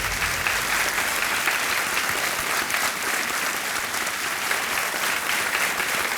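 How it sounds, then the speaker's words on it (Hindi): A game show studio audience on KBC claps steadily and loudly, an even, continuous roar of applause with no break across the whole stretch. "तालियां बजती रहें इनके लिए।"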